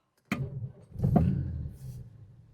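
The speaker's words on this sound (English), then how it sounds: "first thing we'll show you is start up and idling on this Jaguar 340" 1968 Jaguar 340 engine starting: a sharp click, then a brief crank and the engine firing into a rough rumble that settles toward idle, close and fairly loud.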